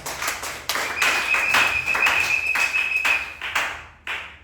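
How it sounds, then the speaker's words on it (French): Congregation applauding during a Sunday church service, brisk rhythmic clapping from many people with a sustained high tone running beneath it, cut off abruptly near the end. "Applaudissez un peu le Seigneur."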